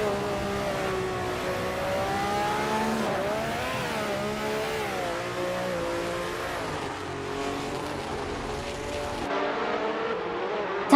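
Race cars in a video game roar continuously, with layered engines revving and shifting pitch as they race side by side, loud and close throughout with no pauses.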